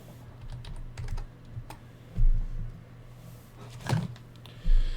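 Keys clatter in short, scattered clusters on a computer keyboard, with a few louder presses standing out over a low steady hum, fairly close and with no one speaking.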